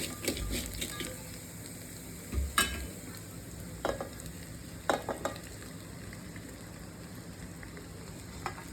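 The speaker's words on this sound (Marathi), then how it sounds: "आता आपण पोहे टाकून घेऊ." Flattened rice (poha) is added to onions frying in a pan, giving a soft steady sizzle with a few sharp scraping stirs and clinks of a spoon, close up with no talking.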